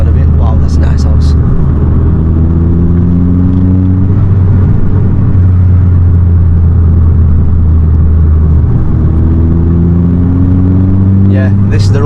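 Steady loud engine drone inside a Volkswagen Golf GTI while driving on a road, a constant low rumble with slowly shifting tones, voices talking briefly at the start and end.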